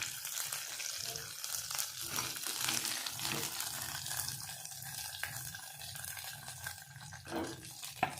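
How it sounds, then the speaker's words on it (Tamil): Brinjal sautéing in oil in a pan for a spicy eggplant kuzhambu, a steady soft sizzle running throughout, close and fairly quiet. "நல்லா கத்திரிக்காய் இப்போ வதங்கிடுச்சு"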